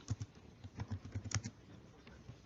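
Someone enters parameter values on a computer keyboard, producing a close, quiet run of irregular key taps that thins out toward the end, with no voices.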